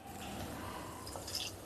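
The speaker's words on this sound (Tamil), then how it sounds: "ஒரு கொஞ்சமாக தண்ணி ஊற்றுங்க" A small amount of water poured onto jaggery in a cooking pan, giving soft wet drips and a brief splashy squish near the end over a quiet kitchen background.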